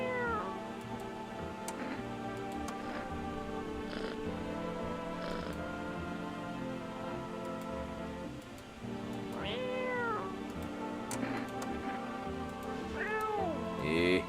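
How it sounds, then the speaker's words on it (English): A cat meows repeatedly, clear and near, several rising-and-falling calls spaced through the span over a steady background hum, with no talk. "You're a cute cat."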